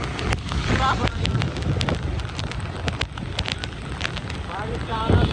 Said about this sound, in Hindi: आप देख सकते हैं रास्ता में कितना बारिश हो रहा है।